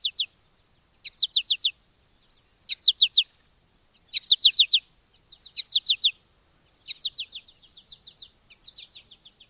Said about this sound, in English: Contact calls, this is an American goldfinch, um, maintaining contact with a mate.